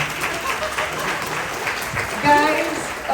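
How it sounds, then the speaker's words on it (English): An audience at a Terrifier cast panel at a Houston festival breaks into applause, steady clapping that swells briefly near the end, with a few voices mixed in. "Applause."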